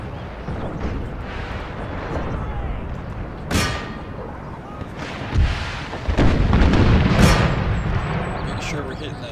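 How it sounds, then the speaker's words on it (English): Artillery battery fire in an American Civil War strategy game, with several deep booming cannon blasts spaced irregularly over a steady battle din, while a voice talks throughout. "Captain, our battery fire is over."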